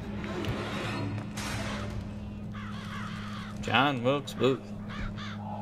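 Crows caw in the BioShock Infinite video game, several harsh wavering calls in a quick cluster near the end, heard over a low steady game hum while a person talks.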